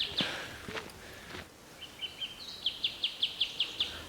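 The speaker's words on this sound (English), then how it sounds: "I'm sat here with the noise of the birds and the wind in the trees" Birds sing outdoors with a few scattered calls, then a run of about eight quick, evenly spaced high chirps close by, over faint breezy background noise.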